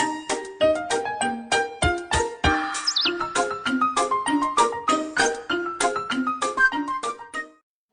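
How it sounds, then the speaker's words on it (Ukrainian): A bird's spring song from a children's story plays as a bright, rapid series of chirping, melodic notes with a quick rising flourish midway, loud and close. "тут пташка проживає, весняні нам пісні співає"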